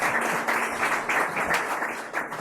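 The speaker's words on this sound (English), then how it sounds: "Another round of applause for our speakers." A crowd applauding continuously, dense clapping at moderate volume, heard without speech.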